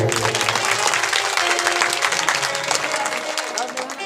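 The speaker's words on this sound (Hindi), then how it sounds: "एक बार ताली हो जाए चाहिए।" Audience clapping at a religious discourse on the story of Prahlad in Gonda, Uttar Pradesh, a dense steady wash of many hands sustained throughout and fading slightly near the end, with some talk mixed in.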